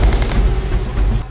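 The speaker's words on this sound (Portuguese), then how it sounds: "Tiros." Airsoft gunfire in a forest during a skirmish between teams: a loud, rapid fusillade of overlapping shots crackles close by for the whole moment, without talk.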